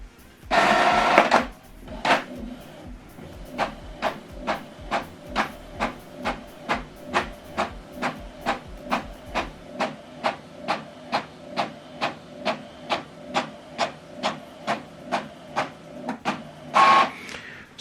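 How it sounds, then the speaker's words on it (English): An Epson Workforce 2960 printer feeds a double-sided page back in to print the second side: a loud motor burst, then a steady train of evenly spaced mechanical clicks and whirs, ending with another short burst, nearby and without speech. "So it's going back in to print out the other side."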